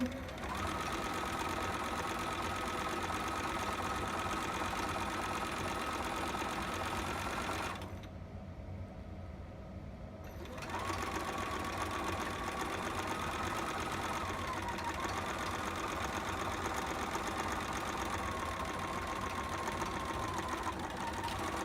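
A sewing machine stitches over a troublesome seam in a long, even, whirring run, close and steady, dropping off briefly midway before resuming at the same pace.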